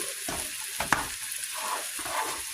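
Food fries in a home kitchen pan on the stove, a steady broadband sizzle with occasional stirring clinks and scrapes, close and moderately loud with no talking.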